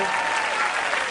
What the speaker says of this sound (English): Every time he shows up, there's claps, there's cheering.